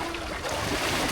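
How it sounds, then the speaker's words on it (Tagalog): A small boat moves across water with a continuous rumbling wash and wind-blown noise, on a fish-catching trip for tilapia. "Tunog tong bangka niya."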